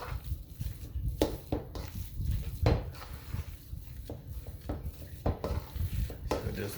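A spoon stirs and mixes filling for bacon-wrapped jalapenos in a bowl, with repeated scraping clinks of utensil against the dish and a faint sizzle behind, close up without talk.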